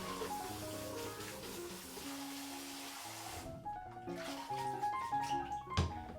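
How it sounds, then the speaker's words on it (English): Tap water runs over freshly made udon noodles being strained and rinsed, a steady splashing flow that thins out midway into softer trickles and intermittent splashes. "strain and rinse the noodles with running water"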